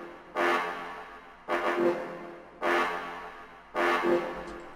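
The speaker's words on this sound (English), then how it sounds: "This is an orchestral ensemble from the brass sections, full brasses, and it sounds like this." Four sustained brass chords sound one after another, each a full, swelling blast separated by short pauses.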